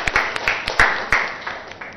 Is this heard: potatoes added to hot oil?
no